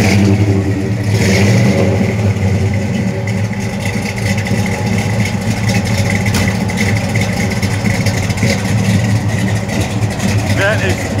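A 1969 Dodge Charger engine running loud and close at a car show inside an airport hangar, a steady heavy rumble with a brief rev near the start, people talking faintly in the background.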